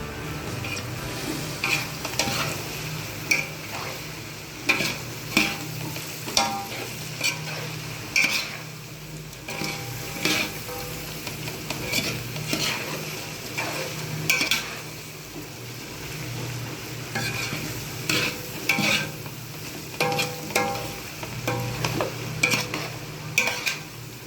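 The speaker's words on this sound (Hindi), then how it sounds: "ये हमने नमक और काली मिर्च अच्छी तरह मिक्स करके इसको 2 से 3 मिनट के लिए भून लिया" Rice stir-fried with salt and black pepper for Chinese-style fried rice, sizzling steadily in a pan as a spatula scrapes and tosses it in frequent clattering strokes.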